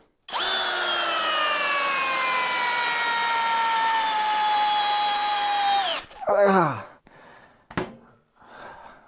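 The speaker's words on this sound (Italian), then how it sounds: "quando voglio mettere in difficoltà un trapano, avvito in questo tronco" A 20V cordless drill driving a screw into a log whines steadily for about six seconds, its pitch sagging slightly under load, then stops; a few short breathy sounds follow.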